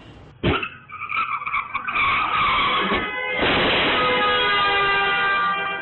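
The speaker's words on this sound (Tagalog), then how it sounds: "Biglang may malakas na kalabog at busina." A sudden loud bang from a crash involving a black SUV is followed by tire squeals and a sustained blaring car horn, harsh and close, ringing on for several seconds.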